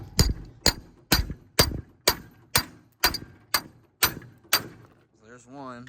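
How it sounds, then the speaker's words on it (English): Rusty bolts are knocked out of a jon boat trailer coupler with an improvised hammer: about ten sharp metallic strikes at a steady, even pace, close and loud, then a voice speaks briefly. "So all we got to do now is knock the other bolts out."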